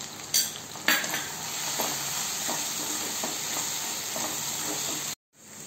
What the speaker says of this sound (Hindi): अब इसमें हल्दी और नमक डाल के चलाना है।